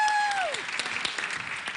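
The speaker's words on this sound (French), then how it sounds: "Applaudissez-vous, vous êtes en finale." Applause for finalists on a French television game show, a modest patter of clapping following a short descending electronic tone, fairly quiet and brief.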